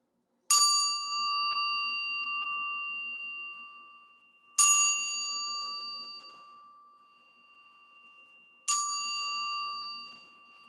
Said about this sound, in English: let's listen to the opening bell that calls us to mindfulness